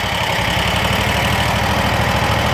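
Kubota lawn mower engine idling steadily and loudly close by, a constant low drone with a dense knocking pulse and no voices.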